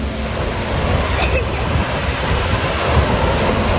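Floodwater surges through a swollen river after a cyclone on Réunion: a close, loud, unbroken roar of rushing current with some wind buffeting the microphone.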